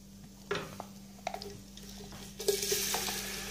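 Onion, garlic and ginger paste goes into hot oil with roasted spices. A few quiet clinks of a spoon against the pan are followed by a soft sizzle that swells and holds near the end.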